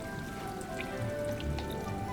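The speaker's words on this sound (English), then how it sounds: "Oh, it's even raining" Rain in Hogwarts Legacy falls as a steady close patter of drops on surfaces, with a faint tonal game hum beneath, no voices.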